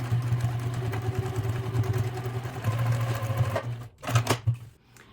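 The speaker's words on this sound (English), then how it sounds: "now I'm going to start to stitch." Sewing machine top-stitching closed the opening in a fabric container's lining, a steady close mechanical whir with rapid needle rhythm that runs continuously, then stops and starts in short bursts near the end.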